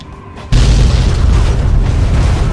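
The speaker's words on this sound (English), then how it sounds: "compare the awesome car explosions between the two games" A car blows up in Fallout 3, a 2008 game. After a quiet half second, one sudden loud boom hits, and a heavy rumbling roar follows and holds to the end.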